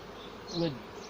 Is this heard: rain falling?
no